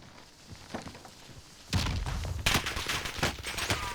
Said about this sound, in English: Got a couple of shots off.